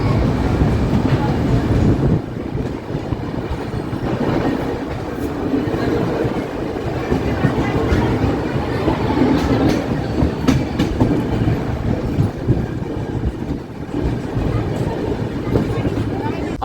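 Grand Trunk Express train running on the tracks in Maharashtra, a loud steady rumble with rhythmic clickety-clack of wheels heard from inside a 3rd AC coach, lasting throughout with faint voices underneath.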